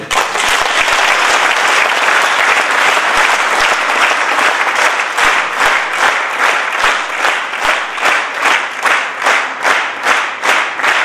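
An audience at a church event claps for the priests and choirs, loud dense applause that gradually settles into a rhythmic, unison clap toward the end.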